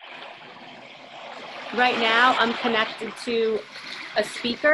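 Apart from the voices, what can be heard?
ocean drum sound from Relax Melodies app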